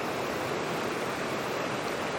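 A creek flows after Hurricane Helene, a steady, close, unbroken rush of water filling the whole stretch with no voices.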